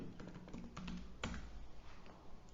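Someone types a search query on a computer keyboard, a brisk run of close key taps and clicks with one louder strike midway, no talking.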